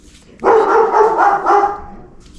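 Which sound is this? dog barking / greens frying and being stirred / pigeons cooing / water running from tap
dog barking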